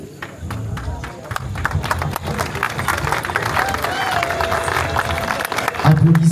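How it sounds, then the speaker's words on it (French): Guests at a customary wedding ceremony clap and cheer together in a crowd, the noisy mix of applause and hubbub swelling gradually louder toward the end. "Applaudissements encore très fort, mesdames et messieurs."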